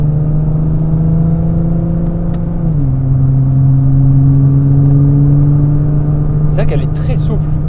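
A 2010 Nissan R35 GT-R with its 3.8-litre VR38DETT twin-turbo V6 drives along, a loud, steady engine drone that shifts pitch partway through, with brief voices near the end.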